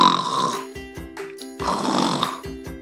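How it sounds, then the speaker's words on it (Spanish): Two long, loud snores from the sleeping dog in a children's story, each a rough rattling breath with a brief pause between them. "nuevamente se escucharon los ronquidos"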